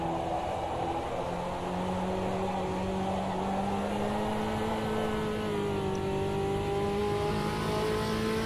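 A race car engine in a sim racing video game drones steadily at high revs, its pitch rising and falling slightly through the lap, loud and continuous with no talk.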